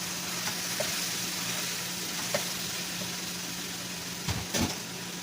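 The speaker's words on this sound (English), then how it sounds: "And now I'm going to add my ground beef. So we're just going to break it down." Ground beef fries in a pan over medium-high heat with a steady, fairly quiet sizzle and a few soft scrapes and clinks as the meat is broken up.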